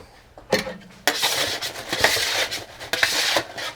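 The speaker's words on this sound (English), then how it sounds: "So next, I'm going to sear off my salmon." Salmon searing in a hot pan, a steady close sizzle rising sharply as the fish goes in, with clinks and scrapes of a utensil against the pan.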